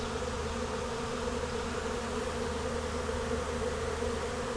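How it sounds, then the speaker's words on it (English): A massive swarm of wild bees buzzes steadily at a barn, a dense continuous drone of thousands of wings filling the air, close and unbroken, with no talk. "stand in thousands and thousands of bees"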